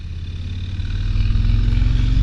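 A 2023 Harley-Davidson Street Bob 114 motorcycle engine rumbles loud and close while riding, a deep pulsing throb that builds slightly as it pulls along, with no talk.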